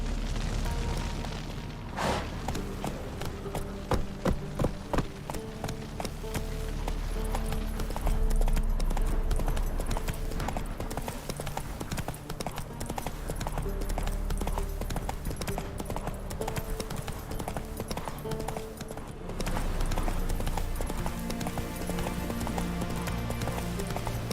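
Roach the horse gallops in The Witcher 3, rapid clip-clop hoofbeats pounding steadily and close over a dense game music and ambience bed, with a brief heavy boom near the start.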